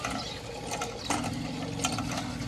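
A hand-operated water pump (nalka) being worked, with a steady ratcheting, creaking mechanical clatter continuing throughout.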